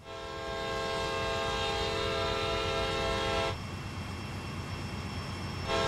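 A train horn in Train Sim World 5 blares as one long, loud, steady blast for about three and a half seconds over rumbling rail noise, cuts out, then sounds again briefly at the end.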